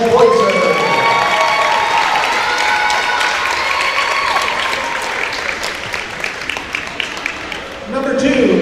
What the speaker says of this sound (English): Please give a round of applause for number 1, Alexa Boyser.